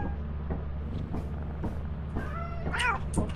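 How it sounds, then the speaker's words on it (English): A cat meows repeatedly inside the Lethal Company video game, the calls rising and bending over a steady low engine-like hum from the ship, ending in a louder drawn-out meow. "Okay, kitty, you're gonna stay right here."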